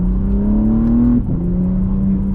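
A BMW G80 M3 fitted with catless downpipes revs steadily from inside the cabin with the windows up, a loud continuous engine drone that rises in pitch, dips briefly midway, then climbs again.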